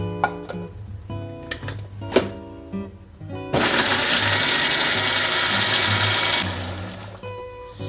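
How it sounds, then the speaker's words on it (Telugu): A mixer grinder roars loudly for about three seconds, blending chopped tomato and onion, then cuts off; softer tonal sounds come before and after. "మన టమాటా ఉల్లిపాయ ముక్కలు మిక్సీ పట్టుకుందామండి."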